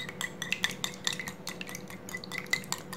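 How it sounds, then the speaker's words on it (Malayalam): A single egg beaten briskly in a small bowl with a fork or small beater, rapid rhythmic clicking strokes against the bowl, close and fairly quiet with no talk. "മുട്ട നമുക്ക് നന്നായിട്ട് ഒന്ന് ബീറ്റ് ചെയ്ത് എടുക്കണം"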